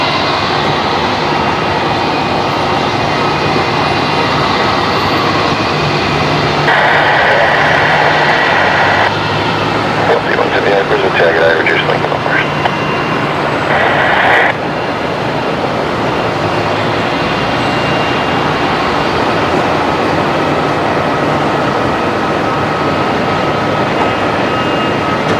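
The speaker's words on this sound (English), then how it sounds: "So the 737 that we were just seeing taxiing up from the international terminal, there it is, heading off to Auckland as Qantas 125 tonight" A Qantas Boeing 737 jet departs Brisbane Airport at sunset, a loud sustained engine roar building and holding steady, with brief tonal bursts midway and no voices.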